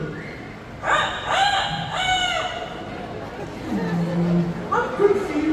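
A rooster crows in a bird park, two loud drawn-out calls close by, followed by clucking and a lower fowl call, with people chatting over it.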